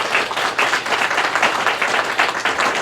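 An audience at a live event gives a round of applause, close and loud, with many hands clapping in a dense, slightly uneven patter that continues throughout without speech.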